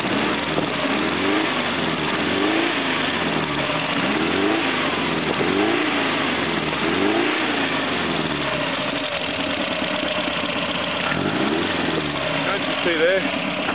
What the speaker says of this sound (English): See there, running alright, smooth, healthy, you can see it's on all four cylinders, and running brilliantly